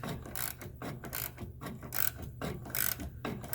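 A hand wrench ratchets on a lower control arm bolt of a 2012 Mazda CX9 with a bad ball joint, giving a close run of quick clicking strokes in an irregular back-and-forth rhythm.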